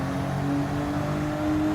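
A Porsche engine in Gran Turismo 7 gives a steady, droning whir with a hum of sustained tones. It sounds flat and vacuum-like, held at a constant level with no talking.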